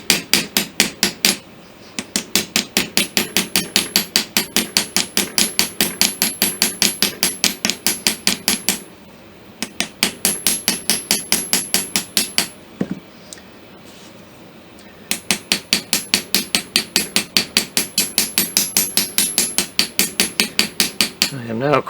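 Rapid metallic hammer blows cold forging a pin on the ram rod for a Kibler Colonial flintlock kit, close and sharp in fast steady bursts of dozens of strikes separated by short pauses.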